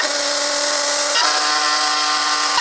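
A kitchen blender churning milk cream into butter gives off a loud, steady electric motor whine throughout, with its pitch shifting once partway as the load changes, and no voices.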